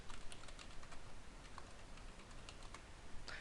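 Quick, light keystrokes on a computer keyboard while logging on, a fast irregular patter of soft clicks heard up close and alone.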